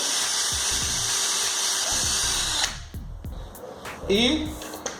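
A power drill bores a hole through the middle of a wall-mounted adjustable foot on a large homemade dog pen, whirring steadily for a few seconds before stopping, followed by faint handling knocks.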